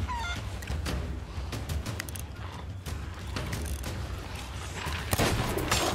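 Gunshots from the pirate game Sea of Thieves crack as scattered, sharp reports over a low, rumbling game ambience, with a stronger burst near the end.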